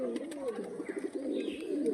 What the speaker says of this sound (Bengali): দেখুন এটা ধরা পায়রা, এটা কালকে ধরেছি।